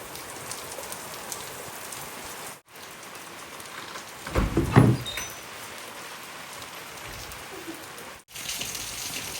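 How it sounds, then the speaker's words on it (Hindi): Heavy rain falling outdoors, a dense steady hiss of drops on surfaces throughout, with a brief louder knock or clatter near the middle and two momentary cut-outs. "तो भाई अभी बरसात होने लगी है हमारे यहाँ पे,"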